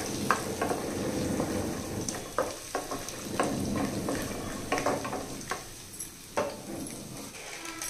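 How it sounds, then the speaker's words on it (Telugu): Peanuts and ginger pieces fry in a pan with a steady low sizzle, broken by repeated scraping and stirring clatters at an uneven pace; no one speaks. "ఇదిగోండి కొంచెం పల్లీలు వేసిన తర్వాత కొంచెం వేగనివ్వాలండి"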